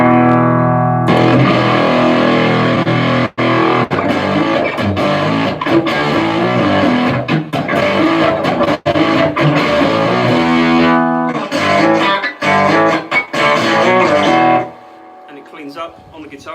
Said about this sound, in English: if you turn that all the way up, it's a fairly conventional, really nice sounding fuzz